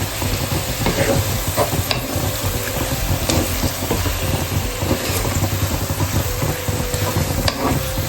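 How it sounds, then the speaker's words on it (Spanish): Beef frying and searing in a pan for a curry, a steady loud sizzle running throughout with occasional stirring scrapes. "Dejamos freír bien para sellar la carne"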